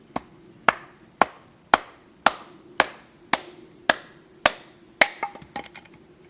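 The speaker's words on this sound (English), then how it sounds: "I'm just going to take another split off it so I've got something that's about three quarters of an inch or so in thickness." A blade strikes wood about ten times at an even pace while a piece is split down for a friction fire lighting set. Each chop is a sharp, loud, close crack with a short ringing tail, and the last hits come faster and scrappier.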